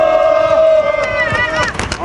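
A crowd at a KT labor union press conference gives a short burst of loud shouting and cheering, with raised voices overlapping for about two seconds.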